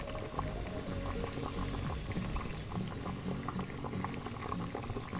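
Potatoes and pointed gourd simmer in a covered pan of spiced Bengali curry, bubbling and popping continuously at a gentle, close, steady pace.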